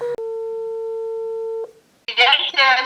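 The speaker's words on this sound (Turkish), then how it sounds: "Babanın telefonu meşguldü." A telephone busy signal on a phone call: a steady tone about a second and a half long, clear and close. It cuts off, then a short pause, then a voice talks.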